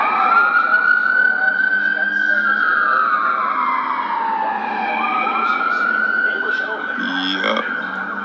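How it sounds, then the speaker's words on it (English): An ambulance siren wails past, loud and close, its steady tone sliding down in pitch and climbing back as it goes by, with traffic rumbling underneath. "Oh no, that's an ambulance."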